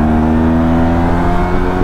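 Yamaha TMAX 2022 maxi-scooter engine pulling under acceleration, a steady loud drone with strong low harmonics held for the whole two seconds, close to the rider and with no speech over it.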